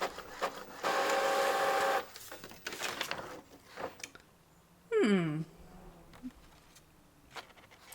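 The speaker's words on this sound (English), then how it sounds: "It's one of those eco printers because it doesn't use cartridges." An eco tank inkjet printer with refillable ink tanks printing a page gives a steady mechanical whir for about a second, then quieter shuffling and clicks, with a brief louder whirring burst later.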